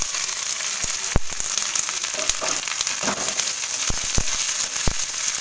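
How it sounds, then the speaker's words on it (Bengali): Chopped onion fries in oil for a spicy Bengali mashed potato dish, making a loud, continuous close-up sizzle broken by scattered sharp pops and crackles. "এই পেঁয়াজ কুচিটা অল্প আগে আস্তে আস্তে করে ভেজে নেব"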